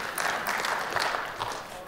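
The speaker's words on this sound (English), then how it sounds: "You can clap if you want." A workshop audience at a patient association annual meeting claps together, a brief steady patter of applause with murmured voices mixed in.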